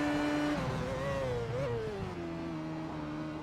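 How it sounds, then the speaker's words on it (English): A race car in a sim racing game downshifts through the Bus Stop chicane at Spa-Francorchamps. Its engine note steps down through the gears, then settles into a steady drone, fairly faint and heard alone. "Let's have a look at how he downshifts through corners."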